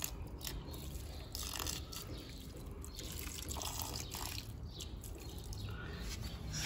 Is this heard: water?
yes